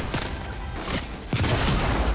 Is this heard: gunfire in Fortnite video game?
yes